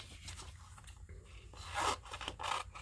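Large scissors slicing through glossy magazine paper, a few rasping cuts with soft paper rustle in between, close and fairly quiet, no one talking.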